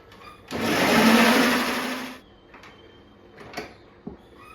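A loud electric mixer whirs steadily through cake batter with nuts for under two seconds, then cuts off, followed by a few light clinks and knocks.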